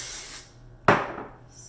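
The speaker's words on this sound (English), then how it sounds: "Spray it all out." A single burst of hairspray from an aerosol can onto hair styled into waves with a 32mm wand, a short loud hiss that fades away in quiet surroundings.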